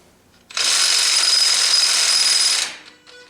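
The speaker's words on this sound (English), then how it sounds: "you're drilling that crooked" A power drill boring into metal on an International 2444 tractor whines steadily at high speed for about two seconds, loud and close, then winds down and stops.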